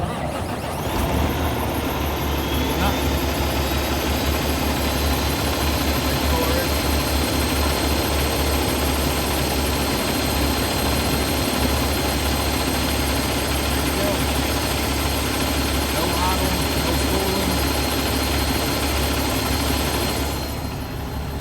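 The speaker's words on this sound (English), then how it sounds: "Now I want you to listen to the engine now when I fire it up" A Cummins ISX 15 diesel truck engine fires up and settles into a loud, steady idle, a constant low rumble and drone with a faint whine running unbroken for about twenty seconds before cutting off at the end.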